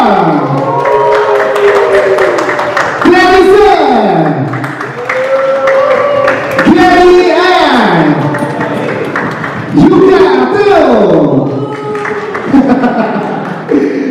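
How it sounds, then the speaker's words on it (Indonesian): Audience applause for the film cast of "Harusnya Horor" at a press conference kick-off, clapping mixed with loud amplified voices and cheering that surge in waves over the whole stretch. "Tepuk tangan untuk Lula Larva"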